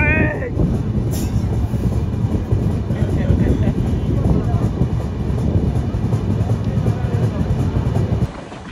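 The Rupsha Bangla Express train crossing the Madhumati River bridge, rumbling and clattering steadily at close range, a continuous heavy roll with some wind noise, ending abruptly.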